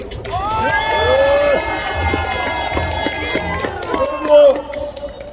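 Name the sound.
crowd cheering at rally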